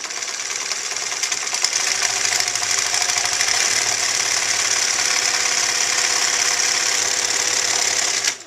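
A sewing machine runs fast, stitching a line along the edge of fabric in a continuous, loud, rapid mechanical buzz that holds steady for about eight seconds before stopping abruptly.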